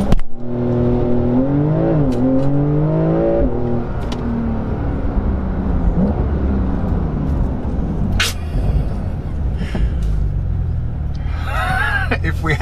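Porsche 992 911 Carrera S in Sport Plus mode on launch control, its engine revving loudly and rising in pitch in steady surges, with brief clicks and road noise between pulls.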